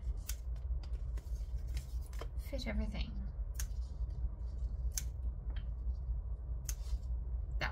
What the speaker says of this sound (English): I'm just going to use a little scissors to cut these out.